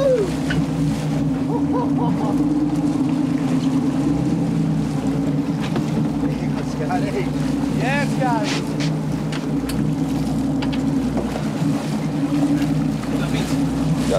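Fishing boat engine idling in gear offshore in Hudson Canyon while fishing for marlin, a steady low droning hum throughout with wind and water noise, and voices talking and calling over it.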